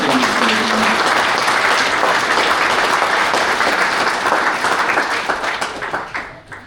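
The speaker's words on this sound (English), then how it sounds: "a bit of a round of applause" A crowd at a football and netball club's 150th anniversary celebration applauds premiership players with steady, dense clapping that holds for several seconds and then tapers off at the end.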